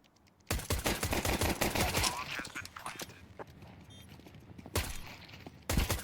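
Gunshots in a Counter-Strike match, a busy crackle of rapid shots and impacts with bursts at the start and near the end, heard under faint commentary.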